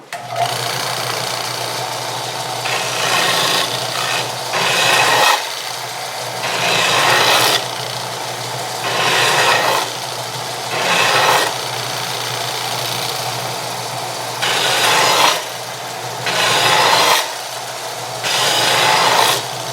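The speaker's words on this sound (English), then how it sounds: "We can round off the headstock." A disc sander grinds against a wooden guitar headstock in repeated bursts, its steady motor whine swelling into rasping, scraping contact every couple of seconds, close and loud with no talking.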